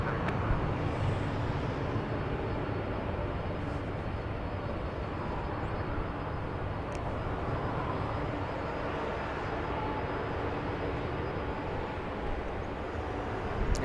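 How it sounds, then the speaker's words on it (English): A LOT Polish Boeing Dreamliner departing Los Angeles International for Warsaw produces a faint, steady far-off jet rumble that holds without change, with no talk. "There is the Polish Dreamliner flying to Warsaw"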